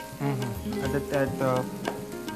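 Onions and garlic frying together in a pan for lahsooni kumb, a steady close sizzle with scattered crackles and soft stirring scrapes throughout.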